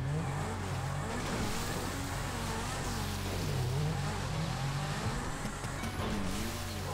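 Steady engine hum of cars driving past continuously in GTA V Online, with rising and falling revs and a constant low rumble throughout.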